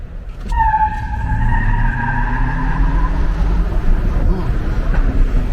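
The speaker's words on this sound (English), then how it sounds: "All right, you ready for a little acceleration?" An electric Hummer, a nearly 9,000-pound truck on big floppy tires, accelerates hard with a rising whine and rumbling road and tire roar, loud and close from inside the cabin.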